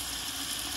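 Squid rings and tentacles sizzle steadily in hot oil while the broth cooks down, a continuous close frying hiss with no talk.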